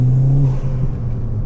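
A hybrid-turbo Ford Fiesta ST making 302 bhp gives a brief, loud, close engine note, with its tone holding and then easing into a lower rumble.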